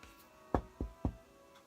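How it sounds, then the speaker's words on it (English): Three sharp knocks on a door, evenly spaced and close, ring out against a quiet background with no voices. "she knocks on the door"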